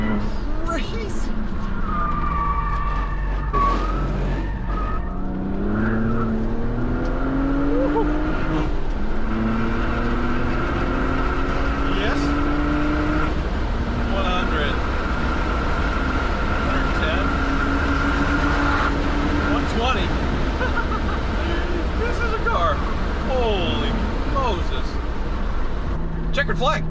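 A BMW driven hard on a race track, its engine note rising and falling through repeated up-shifts and revving sweeps, loud and close with some tire noise, while someone talks excitedly over it.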